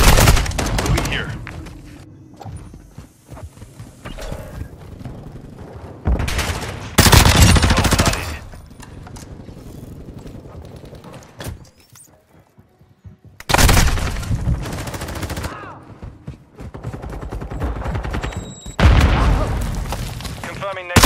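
Heavy gunfire in Modern Warfare 2 during a Hardpoint match at Breenberg Hotel with the Tempus R, loud bursts of automatic fire and blasts coming in waves with brief lulls, and voices calling out between them.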